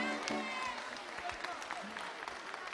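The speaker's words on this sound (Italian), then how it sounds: "Applauso!" Applause breaks out at a church anniversary celebration, steady clapping from a gathered congregation filling the room, with voices mixed in beneath it.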